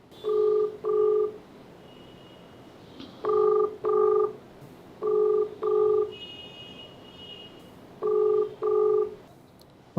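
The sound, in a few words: telephone call ringing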